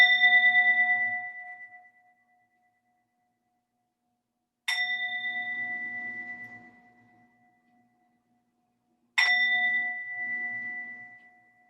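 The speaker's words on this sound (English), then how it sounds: "listen for as long as you can that you hear the bell or the chime" A meditation bell or chime used as a yoga prop is struck three times, about every four and a half seconds, each clear ringing tone sustaining and slowly fading into near silence before the next strike.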